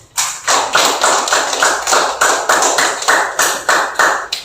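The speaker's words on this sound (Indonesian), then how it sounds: "silakan tepuk tangannya" An audience applauds in a classroom during a teaching performance assessment: a steady run of close, crisp hand claps forming a rhythmic, even patter with no voices on top.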